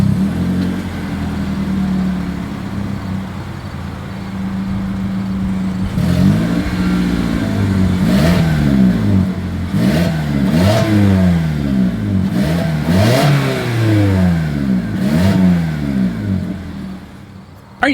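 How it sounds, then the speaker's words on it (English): A 2024 Toyota Corolla's exhaust idles with a deep burble, then revs repeatedly in sharp rising-and-falling blips, loud and close, before settling back down. "As always, here is that exhaust clip."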